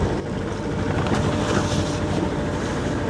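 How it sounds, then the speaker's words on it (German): Strong wind roars across a sailboat docking under sail with a small headsail, a dense, continuous rush with the hiss of water beneath it, close and steady throughout, with no voices. "Viel Wind."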